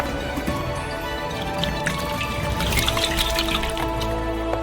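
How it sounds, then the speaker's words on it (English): Oil pours into a cauldron for cooking crayfish outdoors, giving a steady liquid trickle with faint dripping over constant low background noise, no talk. "Pour in some oil."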